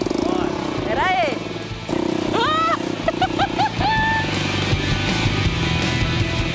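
A small homemade motorbike engine, built by a mechanic, hums steadily at close range while people talk and exclaim excitedly over it.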